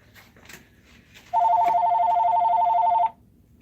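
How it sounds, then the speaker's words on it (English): A telephone rings during a live session of soldering orthodontic appliances, one continuous electronic ring lasting nearly two seconds before falling silent, close and clear over a quiet room. "After the phone stops ringing, let me tell you what I'm doing."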